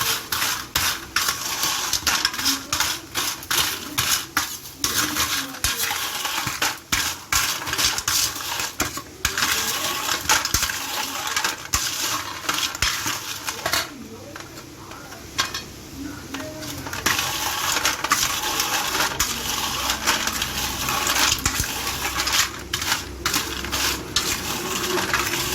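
Seedai snack ingredients are mixed with salt in a bowl, producing a dense close rattle and crunchy clatter with rhythmic bursts as they are tossed together.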